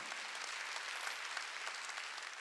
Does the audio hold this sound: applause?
yes